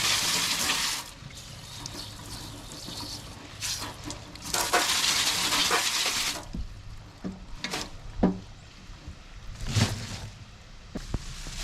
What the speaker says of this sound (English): So I'm just giving my celery a quick rinse here in the outdoor sink